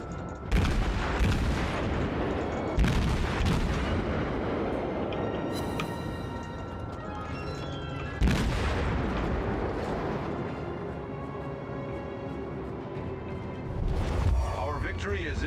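Naval artillery salvos booming in the World of Warships game during a ranked battle: three or four heavy blasts spaced several seconds apart, each followed by a long rumbling tail, with a faint whistle of shells between the shots.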